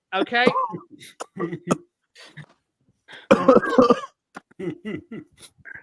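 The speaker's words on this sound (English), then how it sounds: "I've just muted him until he stops coughing." A man coughs several times in harsh, throaty bursts, with short pauses between them and close, fairly loud.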